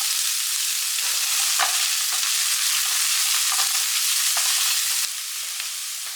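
Sliced onion and green chillies frying in oil with popped mustard seeds for an egg and potato fry, a steady close sizzle with occasional stirring clicks, slightly quieter over the last second.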